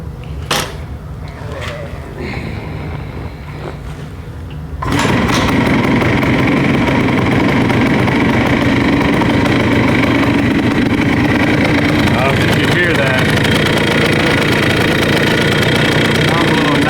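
A 1974 Yamaha DT175 motorcycle with piston slap cranks, catches and settles into a steady, loud two-stroke idle that continues close by after a few seconds of quieter sounds.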